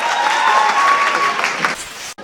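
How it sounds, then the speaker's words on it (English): A crowd at a YouTubers summit event applauds and cheers, with steady clapping, a whistle or two and crowd noise over it. The sound dips briefly, then cuts off abruptly. "so clap on yourself"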